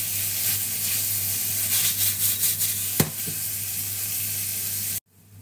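Beef strips fry in a pan, a steady close sizzle with brief stirring scrapes and one sharp clink before the sound cuts off abruptly near the end.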